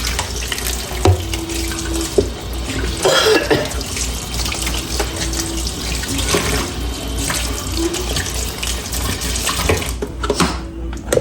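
Tap water runs steadily into a kitchen sink while a blender lid is rinsed beneath it, with a broadband rush throughout and a few brief clinks and knocks of plastic handling over the flow.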